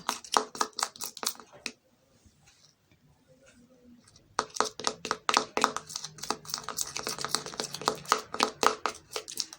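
A homemade vitamin E hand-and-foot cream is worked in a bowl with quick, rapid taps and clicks from the stirring utensil, a short quiet pause, then brisk mixing resumes and carries on steadily.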